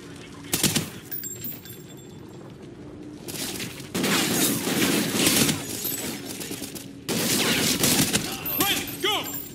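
Bursts of gunfire in Call of Duty: Ghosts, with sharp shots and rattling volleys coming in loud clusters separated by quieter stretches, plus some crashing impacts and no talk.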